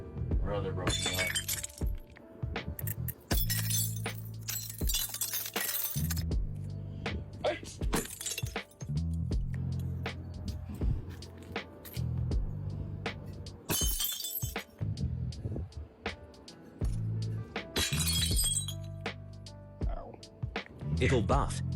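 Several loud, crashing bursts of breaking glass recur every few seconds, each a harsh, bright shatter, mixed with ongoing talk and a low background drone.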